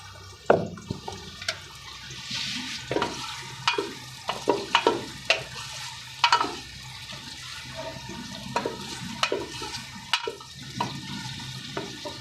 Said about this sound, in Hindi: आयल साढ़ा गर्म हो गया, इस प्याज काट के रखा, पहले इस प्याज पा देने,